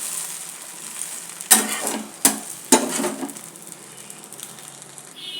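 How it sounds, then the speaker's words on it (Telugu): Urad dal appam roasts in a pan with a faint steady sizzle, broken by three sharp scraping clatters of a utensil against the pan, close and without talk. "అప్పాన్ని రెండు వైపులా బాగా కాల్చాలండి"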